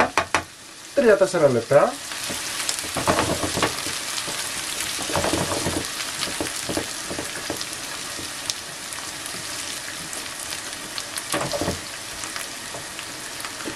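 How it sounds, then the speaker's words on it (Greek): Steady crackling sizzle of food frying in hot oil, loud and continuous, with a few stirring clatters near the start and a brief spoken remark. "Θα τις αφήσετε να τηγανιστούν καλά"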